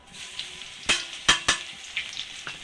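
Garlic cloves frying in hot oil in a pan, a steady soft sizzle with a few sharp spattering pops and clinks near the middle, close and fairly quiet, with no talk.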